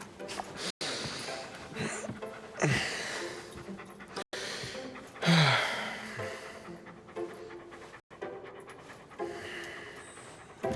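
A dog panting quietly and steadily, soft rhythmic breaths close by in a quiet indoor room, with no talking.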